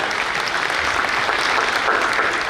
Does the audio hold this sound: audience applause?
yes